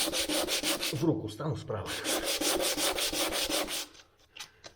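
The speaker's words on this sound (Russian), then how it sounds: "Но наждачка таким образом очень быстро приходит в негодность." Sandpaper rubbed back and forth over a wooden windowsill to strip water-based paint, the paper slightly moistened; rapid, loud, steady scraping strokes fill most of the stretch, a brief spoken phrase in the middle, then the rubbing stops and it goes quiet.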